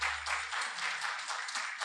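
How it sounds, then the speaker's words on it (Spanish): A church congregation applauds together, a dense wash of clapping that holds steady and fairly loud throughout, with a low hum underneath at the start. "Quería darle un fuerte aplauso a Dios"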